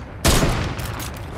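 Video game gunfire: a sharp burst of shots erupts suddenly, loud and close, then decays into a rumbling, echoing tail with no talking over it.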